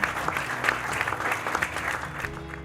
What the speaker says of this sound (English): Another big round of applause for all of this year's recipients.